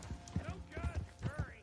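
A horse in Red Dead Redemption 2 walks with soft, steady clip-clop hoof falls and gives a brief snort or whinny, close and moderately loud, while someone talks over it.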